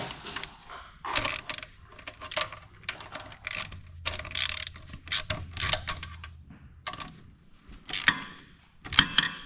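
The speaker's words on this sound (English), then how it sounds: "we'll go ahead and tighten up the top bolt. Let's use our ratchet again." A hand ratchet tightens the top bolt on an Allis Chalmers grader starter, giving close, crisp bursts of rapid clicking in several short strokes with brief pauses between them, and no talk.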